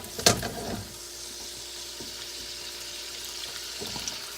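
Vegetables frying in a hot pan next to seared honey chicken make a steady, even sizzle, opening with a sharp clatter and followed by a few faint knocks, with no voices.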